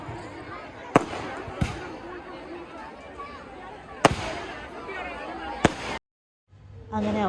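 Fireworks burst at a temple festival at night, with several sharp, loud bangs spaced a few seconds apart over a crowd murmur, and a short silence near the end.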